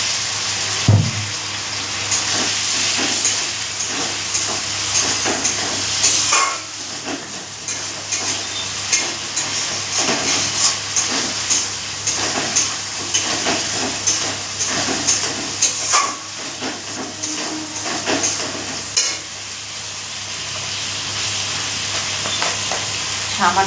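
Water splashed into frying spice masala for dhoka curry, a sharp burst of hiss and sputter at the start, then continuous bubbling sizzle with repeated stirring scrapes and clatters in the pan.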